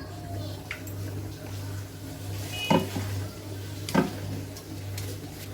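Oil heats and sizzles in a frying pan over a low, steady hum, with two sharp utensil clinks against the pan partway through and a soft background hiss.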